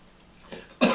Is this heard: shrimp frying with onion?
no